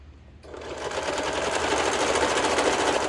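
A serger sewing machine stitches and trims a seam on bell-bottom trousers, starting after a short pause and then running steadily as a loud, continuous, rapid mechanical whir with no talking.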